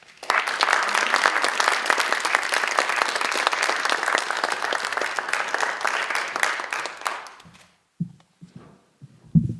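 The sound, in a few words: audience applause welcoming poet Solmaz Sharif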